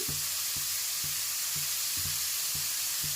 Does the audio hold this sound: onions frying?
yes